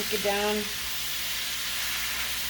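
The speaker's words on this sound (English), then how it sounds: "I'm gonna add my washed spinach to the mix, and I'm just gonna cook it down." Washed spinach cooks down with garlic in a hot pan, giving a steady, moderately loud sizzling hiss after a brief voice at the start.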